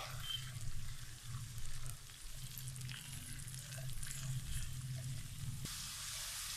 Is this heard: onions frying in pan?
yes